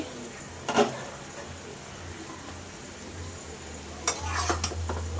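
Potato and shrimp curry is stirred in a pan, with two brief bursts of spoon scraping against the pan over a low, quiet cooking background.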